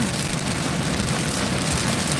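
Rain falls heavily and steadily as a loud, dense hiss that fills the whole moment without a break, with no voices over it.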